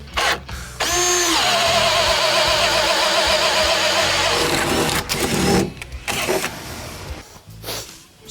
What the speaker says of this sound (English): Using this self-feeding auger bit.